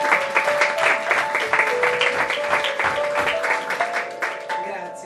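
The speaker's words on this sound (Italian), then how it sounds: "Bel applauso" Audience applause at a poetry book presentation, dense clapping throughout with steady tonal music or voices running underneath, loud and sustained before fading slightly at the end.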